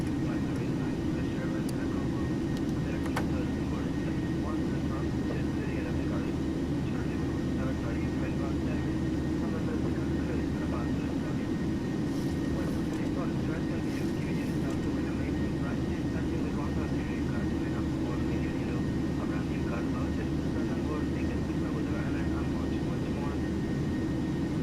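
A Ryanair-style Boeing 737-800 in a flight simulator on a long takeoff roll out of Tenerife, a steady broad engine roar holding throughout at moderate level, with voices talking over it.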